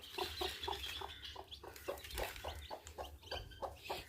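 Many newly hatched chicken chicks peeping in a steady chorus of repeated short chirps, close and fairly soft, with no talk over them.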